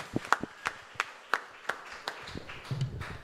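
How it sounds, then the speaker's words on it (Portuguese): Congregation clapping in a church service: a run of sharp, separate claps at a steady rhythm, fairly faint and roomy, fading into low murmuring and movement toward the end. "Uma salva de palmas para o nosso Senhor Jesus."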